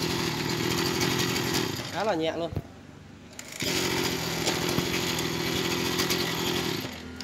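Echo 24cc brush cutter with an assisted recoil starter, its small two-stroke engine buzzing loudly, cutting out briefly to near quiet, then firing up again and running steadily; someone speaks during the pause.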